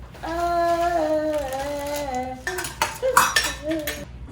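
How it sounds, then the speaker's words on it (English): Batter ingredients are dumped into a mixing bowl during Valentine's baking: after a drawn-out humming vocal tone, a burst of clattering, knocking and clinking from the bowl and utensils follows at close range. "You can dump it all in here."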